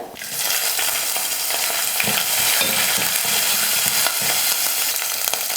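Chana dal fries in oil in a pan for a sundal snack, a loud continuous sizzle with a spoon scraping and stirring through it in short repeated strokes.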